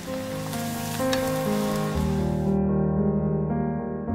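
Dried rice vermicelli cakes fry in hot oil with a loud, steady sizzle that runs throughout, alongside sustained background tones.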